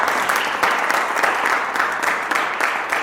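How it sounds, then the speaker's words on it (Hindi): Audience applauding at the closing ceremony of a retrospective art exhibition, a full, steady roar of many hands clapping in a hall, loud and continuous with occasional sharper claps. "जरा एक बार इनके लिए ताली को बजा दीजिए"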